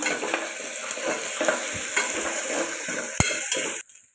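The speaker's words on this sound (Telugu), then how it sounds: "ఇప్పుడు ఇది పచ్చివాసన పోయేదాకా ఫ్రై చేసుకుందాం" Freshly pounded ginger garlic paste frying with onions in a pan, a steady close sizzle with scraping stir strokes and a couple of sharp knocks, ending abruptly in near silence.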